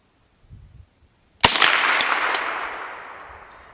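A KelTec SU-22 rifle fires a single sharp, loud shot at a green bottle outdoors, and the report rings off in a long fading tail after a brief quiet lead-in.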